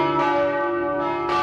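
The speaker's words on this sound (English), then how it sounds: "the sound of bells controlled their every waking moment" Church bells of Holy Rosary in Vancouver ring with a sustained, resonant hum and fresh strikes swelling in, loud and close, with no voices.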